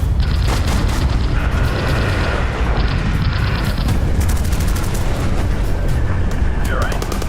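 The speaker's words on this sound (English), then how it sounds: "Cannons and machine guns erupt, and tracers streak toward the bomber's tail." Cannons and German 20mm machine guns fire at a Lancaster bomber's tail in a continuous loud barrage of booms and rattling bursts, with engine drone underneath and a voice talking over it.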